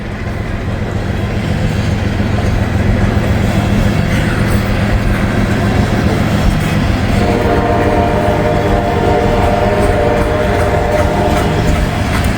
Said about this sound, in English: This is a full grain train, so wherever they came from, they are full.